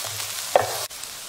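Small pieces of chopped onion fry in a pan still holding meatball juices for a fesenjan stew, a soft steady sizzle with a brief stirring clatter partway through.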